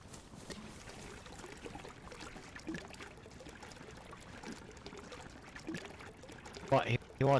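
Water pours steadily in the survival game DayZ, a continuous close trickling stream running for several seconds while voices talk over it.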